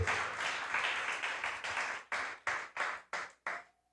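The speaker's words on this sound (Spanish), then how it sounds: "Yo le invito a que le den un aplauso" Congregation applause at a church service, a dense sustained burst of clapping that breaks into several separate loud claps before dying away, with no talking over it.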